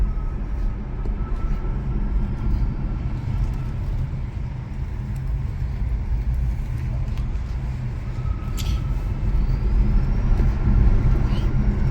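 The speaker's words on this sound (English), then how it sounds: "the whine of that little rear-wheel drive electric motor as it puts down power or claws it back through regen" BMW i3 Rex with its small rear-wheel drive electric motor whining faintly as it drives and regenerates, a thin rising tone over loud, steady road and wind rumble inside the cabin.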